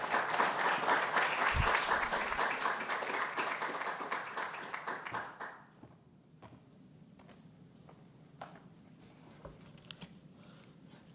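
Audience at the National Archives applauding to welcome a speaker: dense, warm clapping from a crowd swells for about five seconds, then quickly thins to scattered claps and faint room shuffling.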